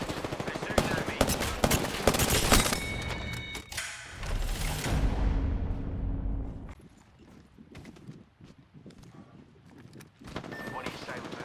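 Bursts of automatic gunfire from the Apex Legends video game, loud rapid volleys up front that fade into quieter scattered shots and thuds, with a voice speaking briefly between them.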